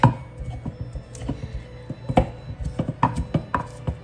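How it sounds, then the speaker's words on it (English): Garlic being finely chopped with a knife on a board for a homemade vegetarian pasta sauce, a quick irregular run of close, crisp chops with no talking. "Just chop your garlic fine."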